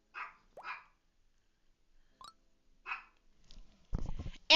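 A Chihuahua barks indoors: a few sharp, yappy barks in short bursts separated by silence, fairly close, followed by brief rustling and handling noise.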